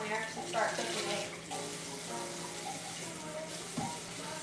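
Tap water running while an oven part is washed in a kitchen sink, a steady close stream with some clinks, and a voice murmurs faintly underneath.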